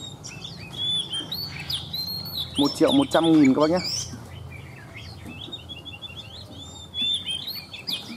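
Hwamei songbirds for sale chirp and whistle in a cluster of quick bright calls, fairly close, while someone talks over them in the middle.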